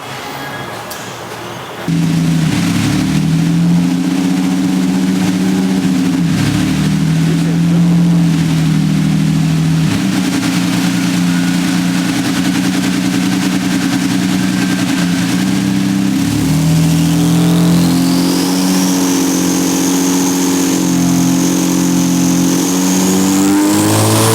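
A turbocharged Ford BA Falcon holds full throttle on a dyno, its engine roaring loud and steady at high revs with a rising turbo whine toward the end.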